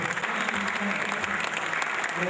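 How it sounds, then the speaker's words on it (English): A church congregation applauds during a sermon, a dense, steady wash of clapping from many hands that holds at the same level throughout. "I was expecting you to clap for Jesus."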